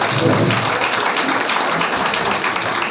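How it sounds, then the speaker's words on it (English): Audience applause at a school International Women's Day event, a dense steady wash of clapping from many hands filling the hall at a constant loudness, with some crowd noise mixed in. "Give them a big round of applause."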